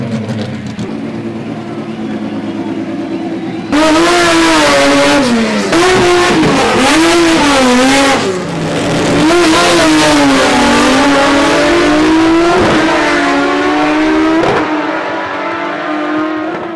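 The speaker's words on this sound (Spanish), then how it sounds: "Que vayamos a ver una picada de autos, y seguimos acelerando en Picadas de la Valle TV." Several cars accelerating hard and revving in a street drag race, likely a Ford and Chevrolet duel, loud and close with rising and falling engine pitch, an announcer speaking over the engines.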